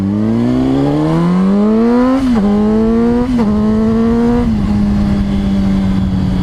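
A 2005 Honda CBR600RR motorcycle engine revs up steadily, dips with quick gear shifts, then holds a loud, close, even high-pitched drone.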